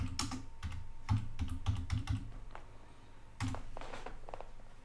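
Rapid clattering keystrokes on a computer keyboard while searching in Synaptic Package Manager on an Ubuntu 20.04 desktop, coming in quick bursts with short pauses, close and fairly loud, with no voices.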